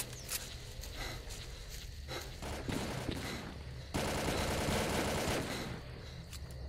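Bursts of automatic and single gunfire rattle in quick volleys from the shooter S.T.A.L.K.E.R.: Call of Pripyat, fairly quiet overall, with a denser sustained stretch of shots partway through and footsteps between.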